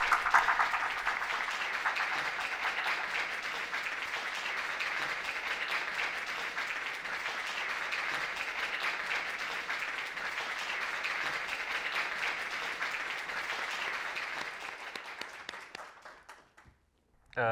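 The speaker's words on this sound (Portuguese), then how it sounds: "Um grande aplauso para o novo campeão mundial de xadrez, João Costa!" A large crowd gives sustained applause for a new world chess champion, a dense, steady roar of clapping that holds for about fifteen seconds before fading out near the end.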